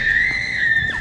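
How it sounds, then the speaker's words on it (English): A child screams loudly and steadily inside a shopping mall, one sustained high shriek lasting about a second over faint background murmur. "Why are you screaming so loud in this mall"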